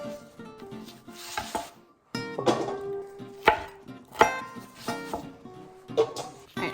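Jalapeños being chopped into big chunks on a board, a series of close knife strokes in uneven bursts with brief pauses, with a short gap near the start.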